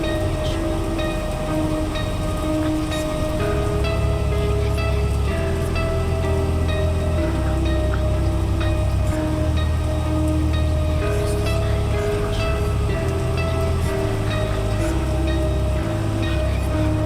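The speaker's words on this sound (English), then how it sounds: "Loving that rain" Steady rain hisses through a dense dark metal music track, a constant wash of droplet noise layered over sustained low tones and heavy instrumentation.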